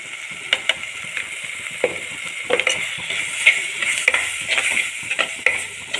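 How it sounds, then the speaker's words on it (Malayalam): Coriander powder roasts in a pan for a Kerala-style fish curry while a spoon scrapes and stirs it, making irregular close clinks and scrapes over a steady, soft dry sizzle. "ഈ മല്ലിപ്പൊടീൻ്റെ പച്ചമണം മാറുന്നവരെ ഒന്ന് നന്നായിട്ട് മൂപ്പിക്കണം കേട്ടോ."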